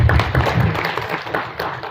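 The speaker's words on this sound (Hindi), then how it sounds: "तो उनके लिए एक बार तालियां हो जाए" A crowd claps for the GST team at a GST awareness program held at Oswal School in Bhiwandi. The applause is steady and moderately loud, with dull low thumps mixed into the dense clatter of hands.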